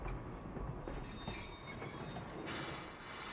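A tram rolls along rails in a ranch roleplay video game, a steady rumble of wheels with faint squeal and clatter, moderately quiet and continuous with no talk.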